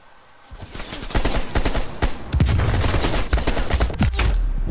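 Rapid bursts of gunfire in the video game Call of Duty: Black Ops Cold War crackle almost continuously, loud and close, with sharp shots layered over each other.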